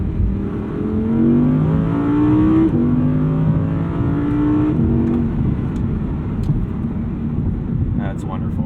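Lamborghini Huracan engine pulling hard in second gear, a loud close roar rising in pitch through the first half and then easing off, with someone speaking over it.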